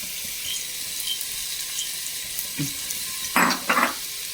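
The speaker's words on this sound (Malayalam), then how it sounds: "അത് പുളിവെള്ളം ഒഴിച്ച് കൊടുക്കാം" Tamarind water is poured into a hot pot of masala in a pressure cooker. A soft steady sizzle runs throughout, with a short splash and then two brief louder bursts of liquid hitting the pot near the end, and no talking.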